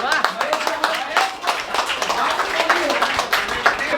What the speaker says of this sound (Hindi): जोरदार तालियां महेश